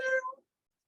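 A voice imitates a cat's meow, a single short mewing call with a clear tonal pitch that fades out within half a second, followed by silence.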